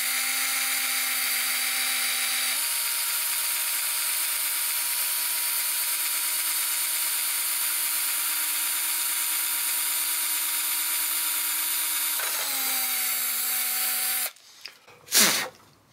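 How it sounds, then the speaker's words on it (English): A big bit drills into the wood of a Harmony H1213 archtop guitar with a steady, high-pitched whine, dipping once in pitch, then stopping with a brief rattle and a sharp rustle near the end. "I'm going to just drill right in the middle of this or thereabouts"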